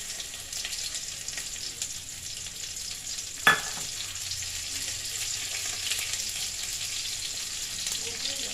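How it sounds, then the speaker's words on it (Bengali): Dal being tempered in a hot pan, a loud continuous hiss of frying that holds steady throughout, broken once by a sharp clink of a utensil against the pan. "ডালটা সাঁতলে দিচ্ছি।"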